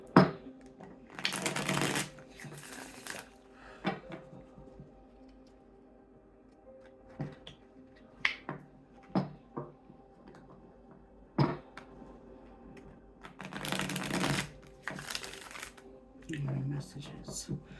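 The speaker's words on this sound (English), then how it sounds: "I wasn't quite done shuffling, but let's go 2 more shuffles" Tarot cards are shuffled by hand at close range in two long, loud riffling bursts, with scattered crisp card taps and flicks between them in a quiet room.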